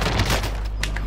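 Rapid bursts of video game gunfire, sustained and loud, close-up automatic fire with heavy low rumble throughout a brief burst of combat.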